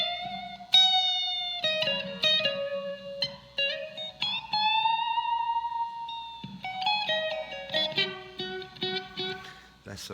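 Electric guitar played through a Blackstar Core ID 40 amp with its room reverb setting, sustained notes and short phrases ringing with a light ambient tail, clean and fairly close.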